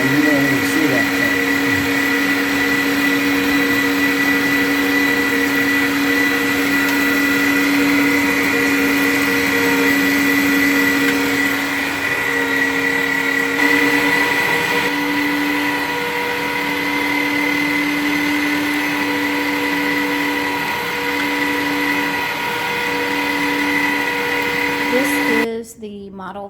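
Electric meat grinder grinding chuck beef, a steady, loud motor whine holding continuously for about 25 seconds before cutting off abruptly.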